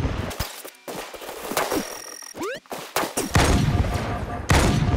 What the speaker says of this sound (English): That's what the sniper sounds like?